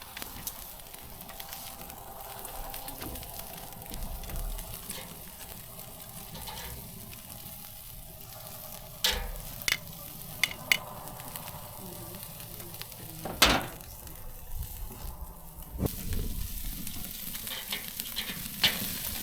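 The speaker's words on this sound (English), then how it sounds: "We'll also throw on our half onions, char them up a little bit before we finish chopping later." Pork shoulder steaks and halved onions sizzle and crackle over a wood fire in a Breeo X30 fire pit outdoors, a steady frying hiss with occasional sharp pops and louder bursts, no talking.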